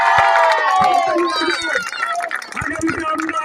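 Claps and cheering from a crowd honouring the champions of a local football tournament, with shouting voices and chatter mixed over the clapping, lively and close.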